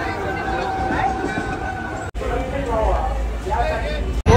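A crowded Mumbai local train rumbles with steady rail noise and a dense babble of passengers talking all around, loud and continuous, broken by brief dropouts.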